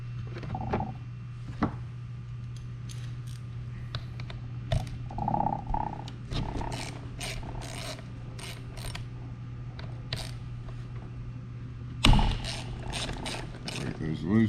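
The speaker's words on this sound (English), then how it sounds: "Now, 1/4 inch Allens on your hub bolts." Allen key working hub bolts loose on a Onewheel+ XR electric board, giving scattered ratcheting clicks, metallic creaks and small knocks over a low steady hum, with one sharper clatter near the end.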